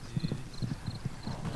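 Horses walk along a ranch trail with guests, steady close clip-clop of hooves in an even rhythm, with no talking.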